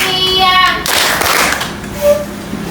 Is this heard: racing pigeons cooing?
no